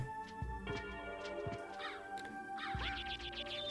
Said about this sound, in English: I just need to avoid a bunch of birds.